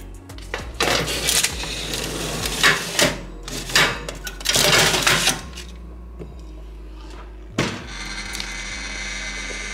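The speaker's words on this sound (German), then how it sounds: "es hört sich ein bisschen so an, als würde der Ofen gleich auseinanderfliegen" A home oven rattling loudly while baking oven vegetables, with irregular bursts of metallic clattering and knocking that come and go over a low steady hum.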